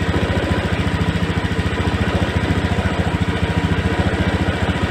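A fuel-injected Honda Scoopy scooter idles at a standard 1600 rpm, a steady, even pulsing engine putter held close and continuous with no talk.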